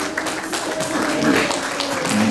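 Audience applause at a Veteran's Appreciation Day staff gathering, a steady patter of many hands clapping throughout, with faint voices underneath.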